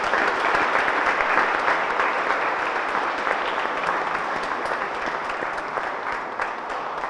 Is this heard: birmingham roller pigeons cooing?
no